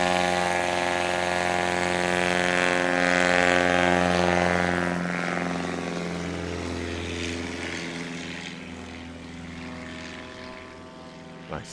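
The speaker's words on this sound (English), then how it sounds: "Nice solid takeoff from Brennan Steck." A STOL propeller airplane takes off at a national STOL series championship, its engine droning loud and steady with strong harmonic tones that gradually fade as it climbs away.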